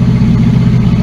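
1976 Ford LTD engine running at about 1800 RPM, a loud, steady, close mechanical hum with an even low drone and no speech over the brief stretch.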